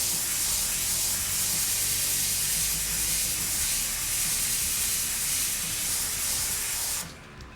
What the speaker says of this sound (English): you grab your trusty airbrush and you start blowing in color.